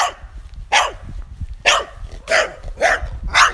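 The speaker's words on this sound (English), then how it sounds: "Just barking dogs all the fucking time." Several dogs bark in short, irregular bursts, about six sharp barks spread over a few seconds at moderate distance, with a faint low background rumble and no talking.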